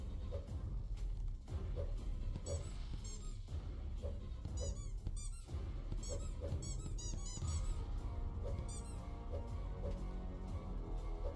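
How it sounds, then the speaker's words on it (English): Repeated high squeaks sound from Poppet Quest, a 3D Metroidvania game, arriving in quick bursts across a busy, loud game-audio bed with no speech. "A squeak."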